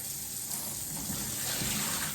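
Tap water gushing steadily into a cooking pot already partly filled, a continuous close splashing rush with no talk over it.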